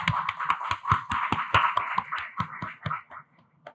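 Applause from a conference audience at a data technology event in India: a run of sharp, separate hand claps with a slightly uneven rhythm, clear and fairly close, thinning out and stopping after about three seconds.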